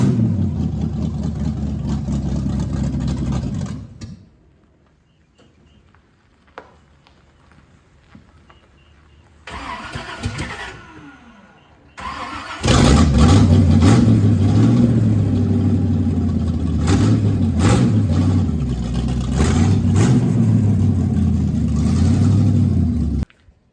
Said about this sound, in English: So we're gonna start it up, pull it down by the garage, and see if we can get this tire aired up.